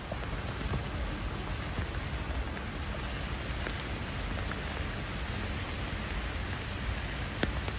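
Rain drips from above onto a Voronezh city street in May, lined with flowering chestnut trees, as a steady close hiss with scattered sharper drops.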